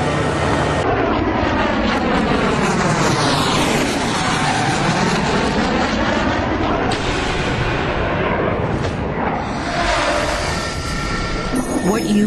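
Propeller airplane taxiing fast, a loud, continuous engine roar with shifting, sweeping pitch that rises and falls as the aircraft passes close by.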